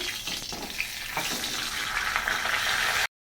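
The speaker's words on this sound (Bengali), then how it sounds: "মাছ ভাজা হয়ে গেছে, মাথাটা ভাজছি। তেল ছিটে ছিটে হাত একদম পুড়ে গেল।" Katla fish head frying in hot oil, a steady close sizzle with spattering crackles throughout, cutting off abruptly near the end.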